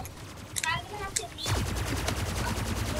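Rapid video game gunfire from the Splitgate laser tag mode, a dense, sustained burst of shots that begins loudly midway and keeps going, mixed with game effects.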